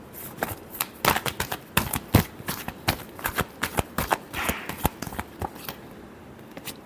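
Tarot cards being shuffled by hand, a quick irregular series of crisp riffling snaps and flicks, close and fairly quiet, with no talking.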